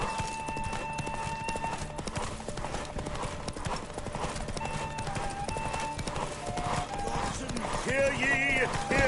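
Roach the horse gallops in The Witcher 3, a rapid, continuous clip-clop of hooves that stays close and loud throughout, with game voices and a tonal backdrop woven underneath.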